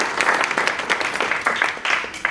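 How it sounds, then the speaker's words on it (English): Audience applause for the Rotary at a speech for a CCTV care campaign, a short steady spell of many hands clapping close and fairly loud. "Little round of applause for the Rotary."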